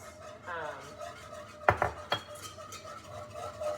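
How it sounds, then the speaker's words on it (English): A whisk scrapes and clinks against a bowl as a mixture is beaten, a few sharp metallic knocks standing out from softer stirring, close and fairly quiet with no talk. "when I'm whisking it, it kind of turns to this really pretty creamy color"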